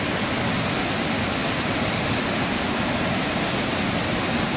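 Steady, full roar of the Savatkada waterfall in Rajapur, its falling water hidden behind thick shrubs, a constant dense rush with no pauses or other sounds.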